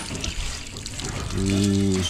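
Weak water flow from a household mains supply trickles and splashes softly in a house, a thin running stream heard beneath a man's speech, briefly joined by a steady tonal hum near the end.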